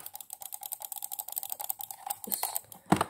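Typing on a mechanical keyboard of unknown switch type, fresh out of the box: a steady patter of close, crisp key clacks that speeds up slightly and ends in a few louder thocks.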